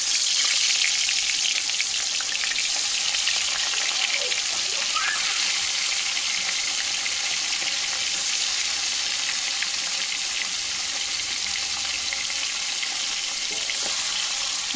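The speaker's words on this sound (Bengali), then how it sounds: "এখন তেলের মধ্যে আমি মাছগুলো দিয়ে দেবো।" Hilsa fish pieces frying in hot oil, a steady, loud broadband sizzle that crackles on without pause, with occasional faint stirring clinks and no talking.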